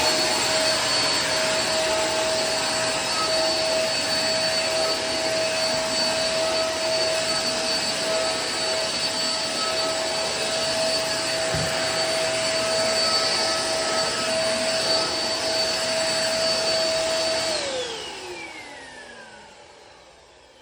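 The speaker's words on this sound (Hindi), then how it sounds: "अभी मैं वैक्यूम कर लूँगी।" A household vacuum cleaner runs steadily and loud for about seventeen seconds in a home kitchen, with a constant whine, then powers down, its pitch sliding away as the motor winds to a stop.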